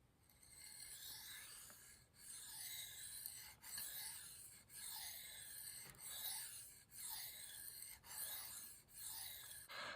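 A knife edge worked on a Shapton Kuromaku 1000 waterstone: soft, steady gritty rasping strokes in a regular back-and-forth rhythm, each lasting about a second with brief pauses, quiet and close, no voices.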